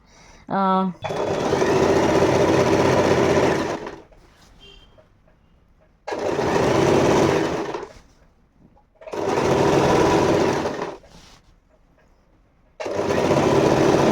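Usha electric sewing machine stitching a fall onto a saree, running in several long bursts of a few seconds each with quiet pauses between, loud and close, with a brief voice near the start.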